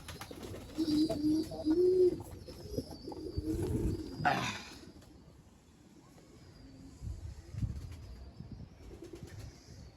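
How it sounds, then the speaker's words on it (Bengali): A rooftop crowded with feeding pigeons gives off low, rumbling coos and rustling, loudest in the first few seconds and then fading to quieter scattered calls. "এটা পুরোটাই কবুতর এই দেখেন পুরোটাই কবুতর দিয়ে ভরা"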